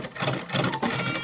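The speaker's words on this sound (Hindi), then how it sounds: "सिलाई कर लेंगे" A sewing machine stitches a small summer dress for a Kanha ji idol, giving a brief, fast mechanical whirr with rapid needle pulses throughout.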